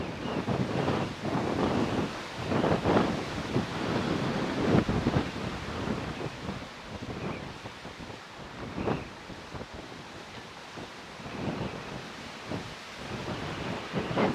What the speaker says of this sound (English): It's blowing a hoolie at the moment here at the airport.